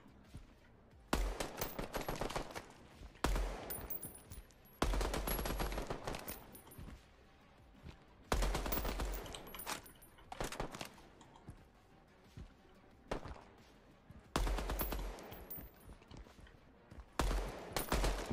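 Bursts of rapid video game gunfire come in several loud volleys separated by short pauses, sharp and close, with no talking.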